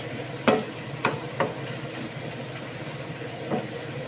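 Broccoli and meatballs are stir-fried in a pan, with a soft continuous sizzle broken by three or four sharp spatula scrapes and knocks, close up and with no talk.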